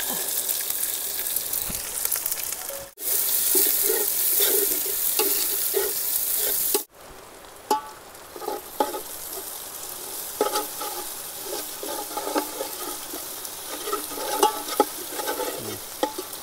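Onions fry and sizzle in a pot of oil for chicken biryani, cooked outdoors at a picnic, making a loud continuous hiss with scraping stirs and crackles and a brief cut in the middle.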